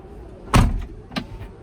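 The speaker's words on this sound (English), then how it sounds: "And then you can close all of the doors" Doors on a Tesla Model X close automatically, giving a firm thud followed by a lighter second latch sound about half a second later.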